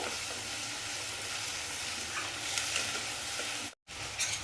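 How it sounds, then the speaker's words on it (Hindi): A steady, soft sizzle of spices frying in a pan, with faint stirring scrapes and one brief gap of silence near the end. "मसाले को हम अच्छे से भून लेंगे चलाते हुए।"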